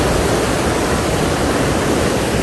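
Ambika river after the first rain, its water rushing in a steady, dense roar, close and unbroken, with no voices over it.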